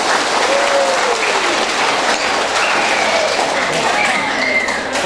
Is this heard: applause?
yes